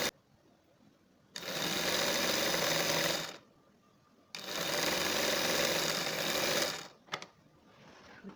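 Sewing machine stitching the hem of a half circle dress, two loud close bursts of rapid motor-driven stitching, each lasting a couple of seconds, separated by a brief quiet pause.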